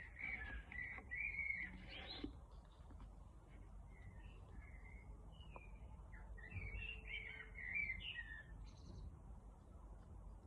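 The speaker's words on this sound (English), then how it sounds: "Enjoying the sunshine and the birdies." Small birds chirp and tweet faintly outdoors in the sunshine, with scattered short calls over a quiet, steady background.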